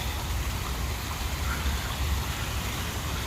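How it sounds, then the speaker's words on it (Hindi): Light rain falls on a downtown street in Warsaw in autumn, a faint steady patter and hiss lasting a few seconds without any talk. "दोस्तों बारिश शुरू हो गई है हल्की हल्की"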